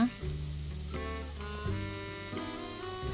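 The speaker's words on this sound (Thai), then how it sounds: "เราจะผัดหอมใหญ่ให้สุกใสนะคะ รวมทั้งกระเทียมด้วยค่ะ" Soft, steady sizzling of onion and garlic sautéing in a pan, heard faintly under continuous background music.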